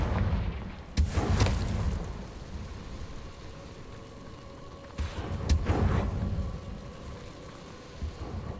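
Confringo blast spells exploding in Hogwarts Legacy, two heavy booming impacts several seconds apart with a rumbling tail over a low ambient bed.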